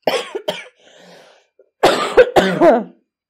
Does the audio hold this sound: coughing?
yes